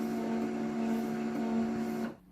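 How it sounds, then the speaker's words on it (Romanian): A printer coming out of standby whirs with a steady motor hum and mechanical drone, close and constant, then cuts off abruptly near the end. "Dacă imprimanta e în standby, facem click pe OK ca să iasă din standby"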